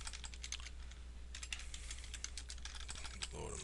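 Steady typing on a computer keyboard, with rapid key clicks running throughout at a close, moderate level and no one speaking.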